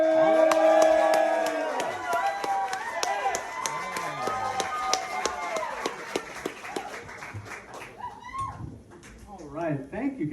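Applause and cheering break out from a comedy club audience at The Statesman in Montgomery, Alabama, for a comedian. The clapping is steady and fairly close, and a voice talks loudly over it throughout.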